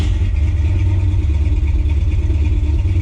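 A 1968 Chevy C20 pickup with a big-block engine and EFI idles steadily and loudly close by. Its deep, even rumble holds constant with no revving, and no voices are heard over it.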